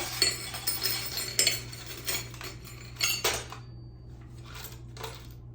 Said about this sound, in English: I did grab some keys just to kind of show you